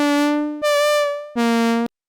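A synth lead run through soft-clip distortion plays three sustained, buzzy notes, the middle one higher, each cut off cleanly, ending in silence.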